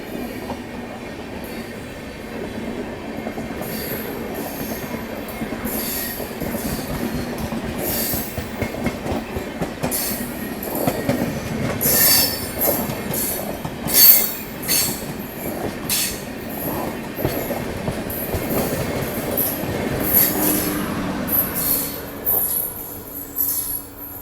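An Amrit Bharat express train pulls into Katpadi Junction, wheels clattering over rail joints with repeated sharp screeches of squealing brakes and wheels, rising in loudness toward the middle before easing.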